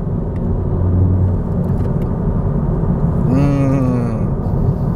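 A Honda Civic FK7 fitted with a custom air intake drives along a road, its engine a steady close rumble with a rising intake whoosh and rev swell partway through.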